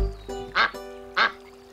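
Ducklings quacking in a children's cartoon, two short nasal quacks about half a second apart over a sustained musical tone, close and clear.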